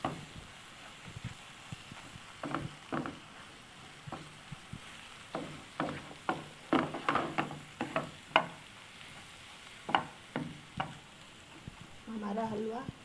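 Carrot halwa being stirred with milk powder in a pan with the flame off, a spoon making a run of uneven scraping strokes with a faint sizzle underneath, close and moderately loud.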